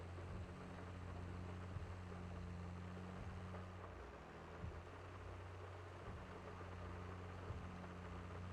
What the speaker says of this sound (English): Let's run this tractor over.